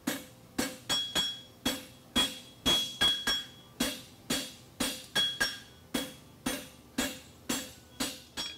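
A blacksmith hammers the caulk of a horseshoe on an anvil, ringing metallic blows in a steady, close rhythm, some struck in quick pairs, each decaying briefly before the next.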